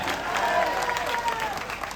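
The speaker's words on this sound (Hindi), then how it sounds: "उनके जोरदार तालियों से स्वागत बनता है कि नहीं बनता है" Audience applause at a Congress party rally in Rajgarh, welcoming Harish Chaudhary on his first visit as the district's in-charge; steady, fairly loud clapping from a crowd with some voices mixed in.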